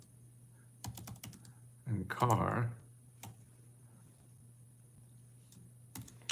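Scattered computer keyboard keystrokes, a few isolated clicks spaced apart with a brief burst of speech in the middle, over a steady low electrical hum.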